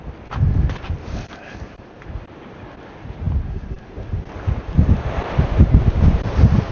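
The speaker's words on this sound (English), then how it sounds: "the wind is crazy up here" Strong gusting wind buffets the microphone at a Grand Canyon overlook, a rumbling low roar that surges and fades unevenly and grows heavier toward the end, with no voices.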